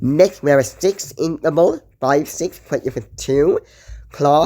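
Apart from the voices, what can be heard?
No everyday noise stands out behind the speech.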